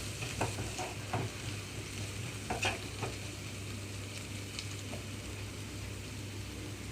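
Beaten eggs fry in a pan with softened capsicum and golden onions, making a steady low sizzle with a few light spatula taps and stirring scrapes early on, and no voices.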